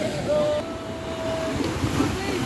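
Strong sea waves and wind surge around a fishing boat out at sea, a continuous rushing wash with a faint engine tone under it, while people talk nearby.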